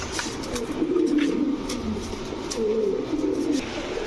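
Female pigeons in a loft give low, rolling coos that rise and fall in two close phrases. They sound close and clear over a soft background hum.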